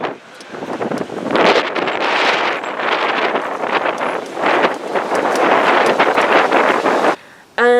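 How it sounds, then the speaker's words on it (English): Strong wind buffets the microphone outdoors on a Boston street, a loud, continuous roaring rush that swells and eases. It cuts off abruptly near the end. "the wind had really started to pick up"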